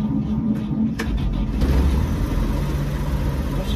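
A 1953 Chevy truck engine starting again and settling into a steady, rough low idle, close by and continuous with no voices.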